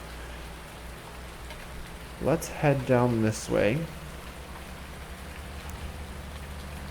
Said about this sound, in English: This is going to be a lot of talk in the rain,